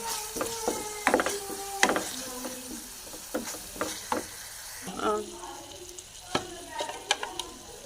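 Half a spoon of salt and a little chilli stirred into a sizzling chicken bread-roll filling, with a spoon scraping and knocking the pan in quick, irregular strokes over a steady close fry.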